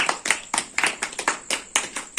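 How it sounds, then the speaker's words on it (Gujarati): Steady, rhythmic hand claps ring out at a Gujarati comedy show, about four sharp claps a second in an even beat, fairly close and clear. "તાળી"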